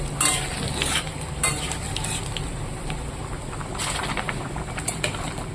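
Ginger tempering for khichuri sizzles and crackles steadily in a pan, a continuous bright hiss with scattered pops and a few stirring scrapes, heard close with no voices.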